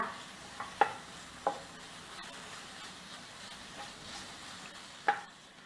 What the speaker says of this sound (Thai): พอกระทะเริ่มร้อนเดี๋ยวเราจะเอาหมูสามชั้นลงผัดค่ะ